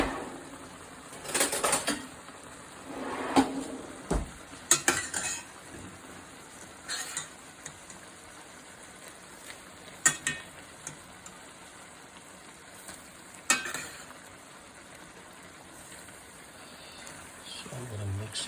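Farfalle pasta made from durum wheat is tossed with medium shrimp and olives in a pan, with irregular clanks and scrapes of a utensil against metal. Louder bursts come between quieter stretches, and there is some background noise.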